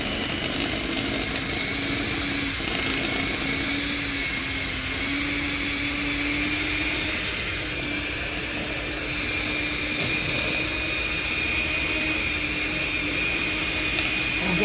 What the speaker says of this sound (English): This works really well with a regular hand mixer.